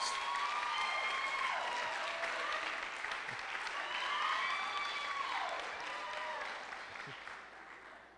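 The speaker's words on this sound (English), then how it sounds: "Let's give Andrea a round of applause." Audience applause at a university graduation commencement, a steady wash of clapping from a large crowd that swells midway and then gradually tapers off, with faint whistles or cheers above it and no speech.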